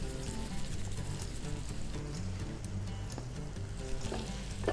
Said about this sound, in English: So make sure you toast your spices now, just nice and quick.